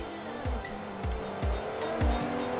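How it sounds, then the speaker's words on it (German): A car in the video game Sleeping Dogs drives at speed, engine droning with repeated short tire squeals and shifting bursts, fairly loud and close, no talk. "So, Sandra, fahren wir dich mal nach Hause."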